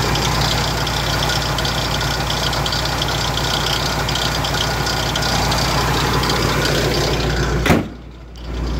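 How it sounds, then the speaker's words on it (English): Idling engine of a 1969 Ford F100 pickup whose pump has a worn pulley bearing, giving a steady close mechanical drone with a faint whine and rattle. A sharp knock near the end sharply drops the level. "Now you will hear the pump making a weird sound."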